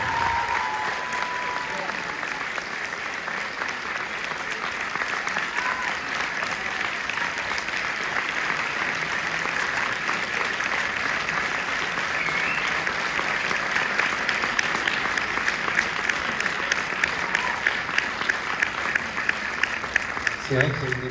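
A preview-screening crowd keeps clapping for actress Camille Cotin in a cinema hall, long sustained applause that stays even throughout, with speech faintly mixed underneath and a few sharper claps toward the end.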